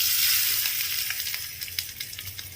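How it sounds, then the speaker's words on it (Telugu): Hot spice tempering poured into a ridge gourd chutney, a strong sizzle that fades gradually, with small crackles and pops toward the end. "ఈ పోపుని తీసుకొచ్చి మనం ముందుగా రెడీ చేసి పెట్టుకున్న పచ్చడిలోకి ట్రాన్స్ఫర్ చేసుకోవాలి."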